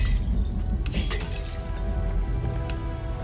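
Vases smashing in the video game Stories: The Path of Destinies, a few crisp shattering crashes over a dense, steady bed of game music and ambience.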